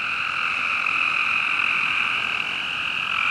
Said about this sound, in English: No, I see the gray tree frog.